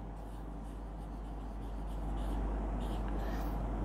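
Pen scratches out a result by hand during a kinematics lesson, faint continuous writing strokes under a loud steady low hum, with no talking.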